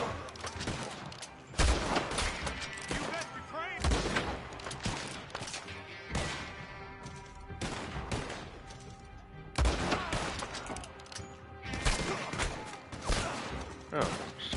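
Red Dead Online gunfire bursts out in repeated sharp cracks and volleys at irregular intervals, each followed by a ringing decay, with quieter game sounds between the shots.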